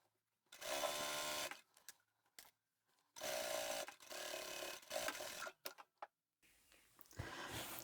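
A sewing machine top-stitches down the long fabric edges of a plain zippered pouch, running in three loud, close bursts of rapid stitching separated by short pauses.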